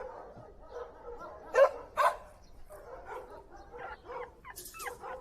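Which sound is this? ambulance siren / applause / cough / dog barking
dog barking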